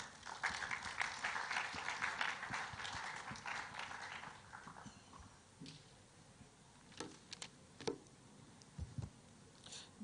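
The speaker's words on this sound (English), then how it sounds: "Let's give him a hand of applause." An audience at a construction-industry event gives a speaker a hand, with a dense wash of applause that fades after about five seconds, leaving scattered claps and faint room noise.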